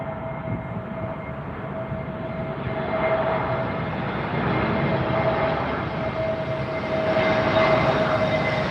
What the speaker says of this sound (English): British Airways A320 Neo is just coming in now, folks.